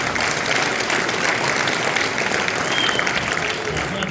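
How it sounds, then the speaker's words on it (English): A crowd applauds the UFC fighters at an evening event in Chicago with lightweight champion Khabib Nurmagomedov, a loud, dense and continuous wash of clapping and crowd noise that fills the whole stretch. "Round of applause, guys."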